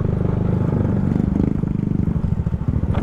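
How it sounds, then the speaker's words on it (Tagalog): Vehicles, apparently a motorcycle among them, rumble past on a residential road, a steady close engine drone with a loud throbbing low end through the whole stretch and no talk. "may mga dumadaan-daan nga din dito mga sasakyan"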